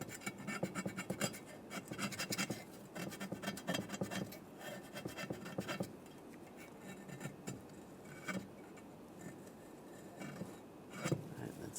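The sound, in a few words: razor blade scraping old gasket off exhaust valve mount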